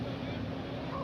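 A water motorbike (jet ski) carries a minister across water during a safari outing, its engine a steady drone under wind noise and voices, continuous and fairly close.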